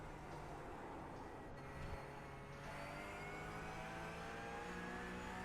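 A Porsche 991 GT3 in iRacing at Virginia International Raceway accelerates, its engine note climbing through rising harmonics with a shift partway through, faint and steady with no talking.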